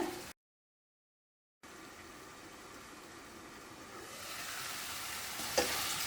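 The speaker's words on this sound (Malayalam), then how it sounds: "ഇനി ഇതിലേക്ക് നമ്മൾ കട്ട് ചെയ്ത് വെച്ചേക്കുന്ന ചിക്കൻ ചേർക്കട്ടെ" Cut chicken is added to garlic frying in a pan, giving a steady hiss of sizzling oil that swells louder partway through, with a short clatter near the end.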